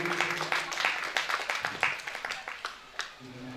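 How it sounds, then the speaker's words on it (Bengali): A festival audience at a theatre applauds, a steady patter of many hands clapping at moderate loudness that stays even through the clip and eases slightly near the end. "একটা জোরে হাততালি হোক।"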